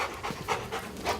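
A small young scent-detection dog pants in quick rhythmic breaths during training, close and fairly quiet, with a sharper low thump at the very end.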